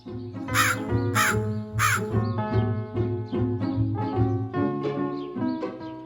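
A crow caws repeatedly and loudly at close range, a run of harsh calls in quick succession, with no other sounds around it.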